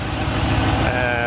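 Replacement V8 engine swapped into a Honda S2000 runs steadily at close range, a deep continuous rumble with a smooth, even tone and no pauses, heard alone without anyone talking.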